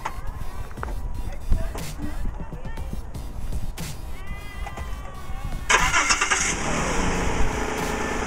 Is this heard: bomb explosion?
no